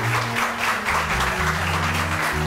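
Studio audience on a Pakistani morning TV show applauds to welcome a guest, a steady wash of clapping sitting over a sustained low musical tone throughout.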